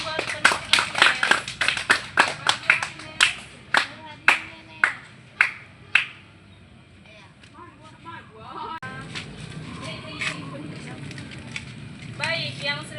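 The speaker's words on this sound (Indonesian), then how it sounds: "tepuk tangan buat teman-teman" Classmates in an outdoor class clap for fellow students, a run of roughly a dozen sharp, fairly close claps that then fades into background murmur and ambient outdoor noise.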